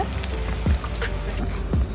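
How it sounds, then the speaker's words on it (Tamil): Water is poured into thick ground masala in a pan for a fish head curry, giving a soft liquid trickle with a few splashy spurts, faint and close. "மசாலா கெட்டியாக இருக்கிறதுனால கொஞ்சம் தண்ணி கூட ஆட் பண்ணிக்கோங்க."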